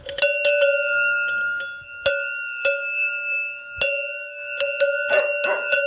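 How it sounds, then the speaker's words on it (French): A cleaned cowbell with its clapper newly fitted rings clearly and closely, giving repeated bright metallic clanks at an uneven rhythm, with a few rapid strikes near the end. No voices are heard. "Ne reste plus qu'à ajouter le battant et cette cloche est prête à partir."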